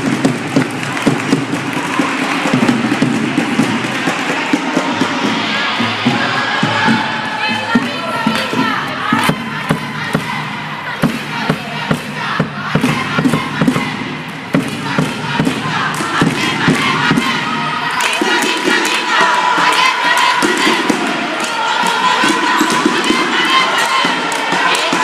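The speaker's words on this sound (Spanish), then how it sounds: "aplauso de nuevo." A crowd at a Spanish championship sports match applauds and cheers loudly and continuously, dense clapping mixed with shouting voices throughout, staying close and full.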